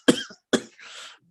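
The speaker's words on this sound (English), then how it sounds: "Were those last few coughs real? yeah, they were." Two sharp coughs from a person with something caught in the throat, close and fairly loud, followed by a raspy throat-clearing breath.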